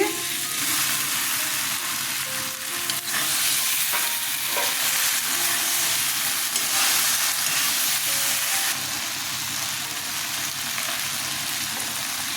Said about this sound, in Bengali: আলুগুলো ভালো করে কষানো হয়ে গেছে এবার আমি ভেন্ডিগুলো দিয়ে দিচ্ছি